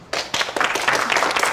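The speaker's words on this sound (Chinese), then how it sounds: "掌声欢迎" Applause welcoming two women singers onto the stage at a formal party, with a few scattered claps swelling into steady, close clapping that carries on to the end.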